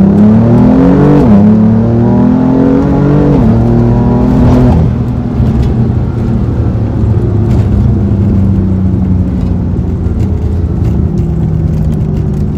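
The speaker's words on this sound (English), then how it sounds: "Car's pulling fine." BMW M3 engine accelerating on the road, loud rising revs through two upshifts, then settling into a steady cruising drone heard from inside the car.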